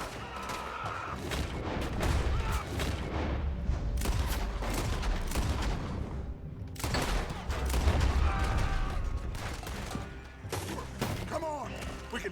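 Rapid bursts of gunfire in the video game Red Dead Redemption 2 crack and thump continuously, dense and loud, with occasional shouting mixed in.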